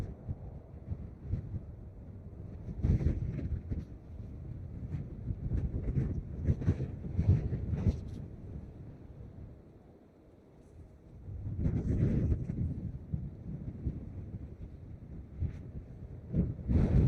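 Strong wind buffets the microphone outdoors at Dublin Airport, a low, rumbling roar with repeated heavy gusts that swell and ease for the whole stretch, with no voices.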